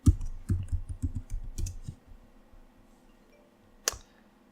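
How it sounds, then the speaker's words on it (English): Quick keystrokes on a computer keyboard as a password is entered, a close, fast flurry of clicks for about two seconds, then quiet with one sharp click near the end. "Now you'll need to type your computer password."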